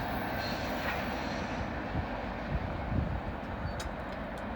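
A loud freight train with a distributed-power locomotive rushes past at speed in snowy conditions, a broad continuous roar with rumbling wheel noise and faint high squeals late on.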